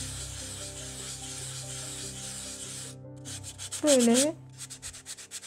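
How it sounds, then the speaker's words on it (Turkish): Fine sandpaper is rubbed back and forth across a ceramic plate in steady, close scraping strokes, with a brief louder rasp and short choppy strokes at the end and a few quiet spoken words. "İnce zımparayla zımparalıyoruz."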